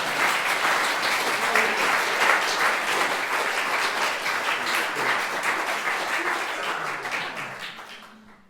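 An audience at a folk poetry performance applauds, loud dense clapping that holds steady and then gradually fades out.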